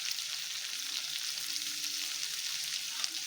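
Garlic and dried red chillies frying in oil in a pan, a steady close hiss of sizzling with faint crackles, continuous and fairly soft, no voices.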